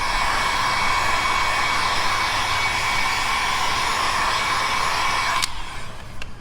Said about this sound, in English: we want to kind of gently heat this up, being sure to keep the heat gun moving